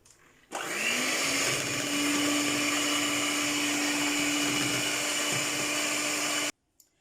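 An electric mixer beats sponge cake batter with flour, a steady loud whirring drone that starts abruptly, holds evenly for several seconds, then cuts off.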